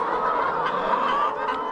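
A dense flock of chickens clucks steadily in a poultry farm coop holding about 1,700 birds, their overlapping calls forming a close, continuous chatter with no speech.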